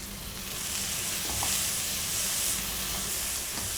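Tomato masala for tawa paneer pulao sautés in a pan, a steady soft sizzle and hiss with faint stirring scrapes throughout.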